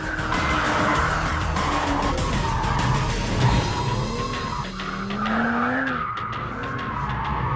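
Tyres on a hard-driven performance car squeal and skid continuously under a loud engine, with pitch swoops as the car slides and accelerates.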